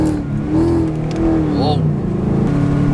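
A Gen 2 Mustang with simple bolt-on mods revs hard after a downshift into sport mode, engine tone climbing and howling while excited voices talk over it from inside the car.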